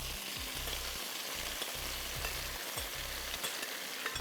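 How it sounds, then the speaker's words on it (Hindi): Marinated beef fries over high heat in a pan, giving a steady, loud sizzle and crackle with no one speaking. "और इसको हम फ्राई करेंगे"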